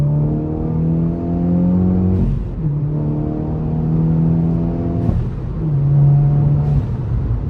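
A tuned Stage 3 Volkswagen Polo GTI engine revs up strongly after a downshift to third, its pitch rising steadily, dropping at each shift, then climbing again in a loud, sustained pull.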